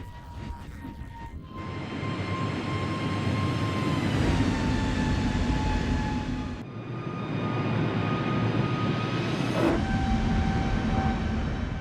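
TAM Flight 3054, an airliner, taking off: a steady, loud jet engine roar with rising whine tones that holds throughout, with no voices.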